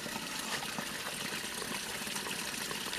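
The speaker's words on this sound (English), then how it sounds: "Look at the water cascading down from that spring well." Water cascades down from a spring well with a steady, soft rushing and gushing flow at moderate distance, continuous and unbroken, with no voices.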